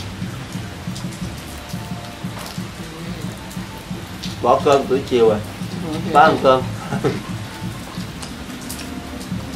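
Rain falls steadily as a continuous soft patter around the house, while two people talk in Vietnamese over it at close range.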